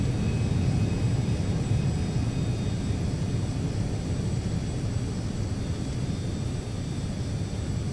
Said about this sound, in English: Get off here and we'll back taxi up to our parking for the day.